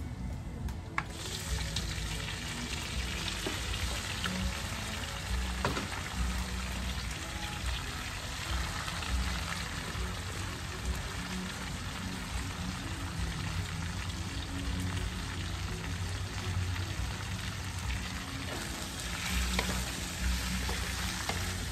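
Chicken meat sizzles loudly in a pan with browned garlic for traditional Filipino chicken adobo, a steady dense frying hiss that runs the whole time with occasional stirring, close and with no talking.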